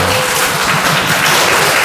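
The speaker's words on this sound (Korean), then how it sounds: "우리 찬양단한테 박수 한번 해줄까요?" A church congregation claps for the worship team at a Sunday service, a loud, close, continuous burst of applause filling the room for a couple of seconds.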